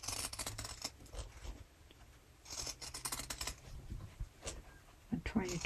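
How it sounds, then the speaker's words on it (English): Pinking shears cutting fabric for a table topper make crisp snipping bursts, uneven and close, with someone talking over and between the cuts. "Now the reason I use the pinking shears is because I don't have to clip the"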